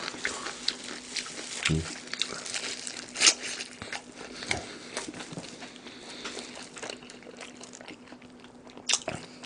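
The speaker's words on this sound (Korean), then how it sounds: "겁나 쩝쩝대네요." Loud, close smacking and crunching as someone chews fried chicken (Kyochon Honey Combo) during a mukbang, with irregular bites and wet mouth sounds throughout.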